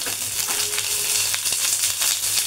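Onions just added to a pan of lightly fried garlic and ginger for an Indo-Chinese dish give a moderate, even sizzle, with a few soft clinks and scrapes of stirring in the first half.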